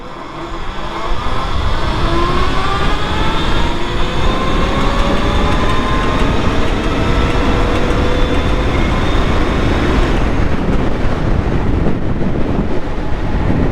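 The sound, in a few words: electric bobber motorcycle accelerating 0-60 in gear 3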